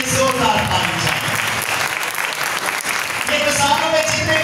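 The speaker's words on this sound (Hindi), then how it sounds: "जोरदार ताली चाहिए।" Loud audience applause at a Father's Day church sermon, a dense burst of many hands clapping that dips briefly in the middle and swells again, with a voice speaking over parts of it.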